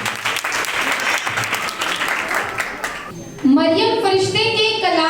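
Loud applause from a quiz audience at a Christmas quiz program, dense clapping for about three seconds, then giving way to a voice speaking.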